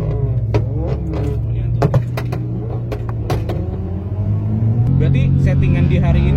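A BMW M4 with a stage 2 tune and full Akrapovic exhaust system rumbles at low idle, a deep steady drone that swells slightly near the end, with people talking over it close by.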